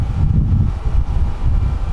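Wind blows outdoors, buffeting the microphone in loud, low, gusty rumbles that rise and fall over a couple of seconds, with no voices.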